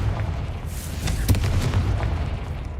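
A Confringo blasting curse from the Hogwarts Legacy video game goes off as a deep, loud boom with a sharp crack at its peak, followed by rumbling debris and a lower roar that fades over about two seconds.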